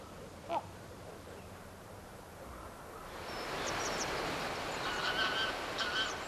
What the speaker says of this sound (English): In the valley, the grey geese have come to feed.